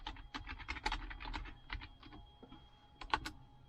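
Typing on a computer keyboard, a steady run of quick, close key clicks with brief pauses, moderately quiet and without voices.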